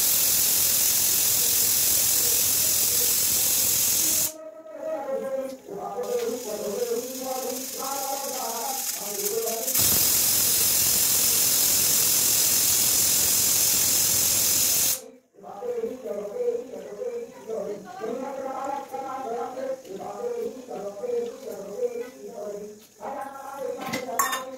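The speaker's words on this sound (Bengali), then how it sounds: "কুকারটা ঢেকে দেবো, সিটি মারবে" A pressure cooker on the stove lets out two long, loud, steady bursts of hissing steam, each lasting several seconds, with a person talking in the pauses between them.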